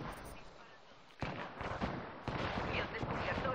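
Gunfire in an online shooter match, bursts of repeated shots and blasts that grow louder midway, with a player talking over the action.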